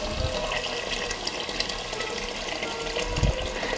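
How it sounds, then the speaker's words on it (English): Water poured into a cooking pot of Persian gheymeh stew, a steady rushing, splashing flow running evenly throughout, close and fairly loud. "put the water in."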